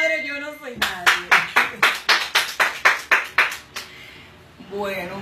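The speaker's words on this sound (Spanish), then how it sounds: "Un aplauso para Marta" A run of about a dozen sharp, evenly spaced claps from a live audience honoring Marta, the speaker's mother, at a Santa Marta la Dominadora spiritual gathering, starting after a brief voice and fading into quiet murmur.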